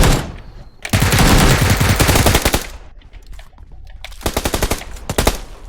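Automatic gunfire from the PUBG PC Lite game rattles out in two long, loud, rapid bursts, separated by a quieter gap with scattered single shots.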